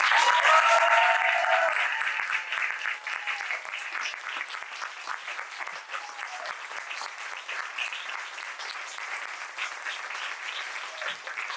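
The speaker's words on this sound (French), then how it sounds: "qu'on fasse un tonnerre d'applaudissements pour Anissa et Ruth" Warm applause from a conference audience in France for Anissa and Ruth, loud at first with some cheering and then settling into steady, slightly softer clapping that continues throughout.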